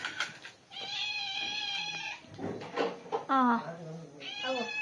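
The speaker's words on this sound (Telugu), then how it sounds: "మాకు ఒక పిల్లి కూడా వచ్చింది" A cat meows repeatedly, with several drawn-out, rising and falling cries close by, separated by short pauses and faint background noise.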